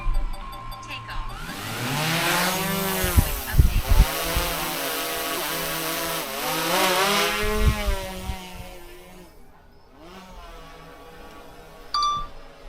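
A small drone spins up and lifts off, its high whining rotors rising and shifting in pitch as it climbs and manoeuvres nearby, loud and steady, then fading before a short electronic beep near the end.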